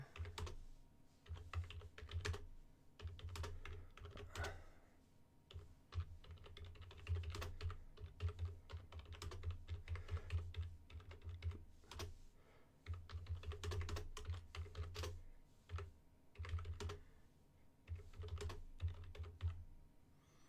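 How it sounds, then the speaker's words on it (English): Typing on a computer keyboard at close range, rapid irregular clicks and clacks in bursts with brief pauses, continuing alone for about twenty seconds. "I'm typing into, yeah, there we go."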